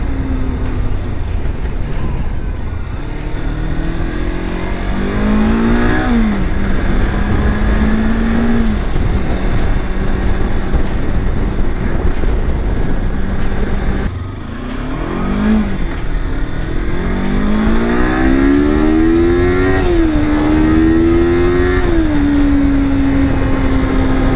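Helmet-mounted GoPro Hero 7 capture of a motorcycle ride, with loud steady wind buffeting and engine drone that rises and falls through several rev climbs and gear changes, continuous and close throughout.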